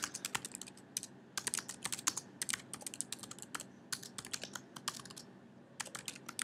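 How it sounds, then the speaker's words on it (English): Close, quiet typing on a computer keyboard, with quick irregular bursts of clicking keystrokes separated by short pauses, alone in a calm room. "I'm typing real good"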